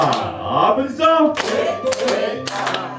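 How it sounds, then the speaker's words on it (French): Hands clap in scattered bursts at a celebration of a king's festival, mixed with voices calling out and chanting over the applause. "Applaudissons!"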